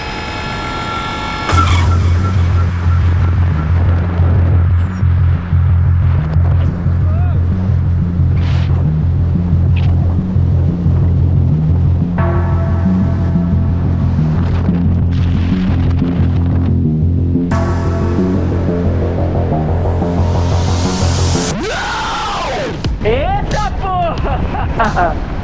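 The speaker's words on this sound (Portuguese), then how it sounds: "o que acontece quando um paraquedas de alta performance abre com freio solto" Strong wind roars steadily past the microphone in a long, loud rush as a high-performance skydiving parachute opens with a loose brake. A droning tone runs beneath it, and the noise eases near the end.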